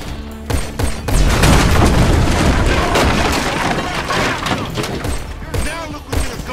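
Gas can exploding after being shot in a GTA V shootout: a loud, dense boom with rumbling debris and gunfire continues for several seconds, with game dialogue over the top.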